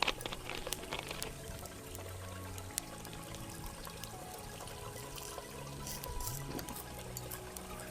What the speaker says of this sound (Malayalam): ഇനി ഈ സൈഡിലും കുറച്ച് വെളിച്ചെണ്ണ ഒഴിച്ച് കൊടുക്കാം